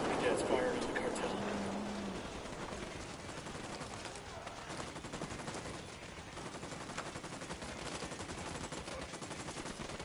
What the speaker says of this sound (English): Unidad's firing on the cartel.